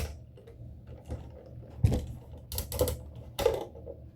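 A Buzz Lightyear model kit figure's joints click as the limbs are moved: a few sharp, close ratcheting clicks spaced irregularly over quiet room tone, with no voice.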